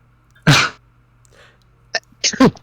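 A close, sharp sneeze bursts out once, followed after a pause by a couple of short, forceful follow-up sneezes or coughs in a quiet room.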